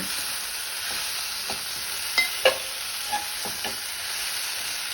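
Kacha mango chutney ingredients with pink salt fry over a low flame, a steady soft hiss beneath a few sharp scrapes and clinks of a spoon stirring the pan, with no talk.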